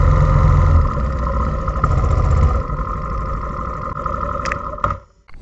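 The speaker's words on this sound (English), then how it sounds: "He don't like the sound of a motorcycle." A motorcycle engine runs with a loud, steady idle rumble close by, then cuts out near the end, leaving a brief tail of fading noise.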